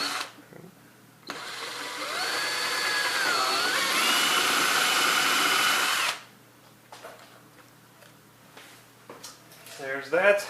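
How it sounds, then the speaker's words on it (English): A power drill bores a hole into the plastic fender of a Power Wheels Barbie Jeep. It runs steadily for about five seconds with a whining, rising pitch, then stops. Quiet handling noises follow, and speech is audible near the end. "So let me drill a hole right here."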